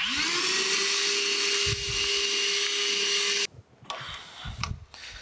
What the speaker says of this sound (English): One of the most used tools in my shop is this little battery powered shop vac.